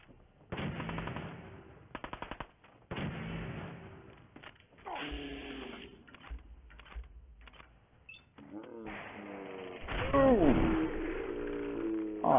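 Shotgun blasts in Fallout 4, several loud sharp reports with bursts spaced irregularly across the scene, mixed with game music and effects, and someone talking over parts of it.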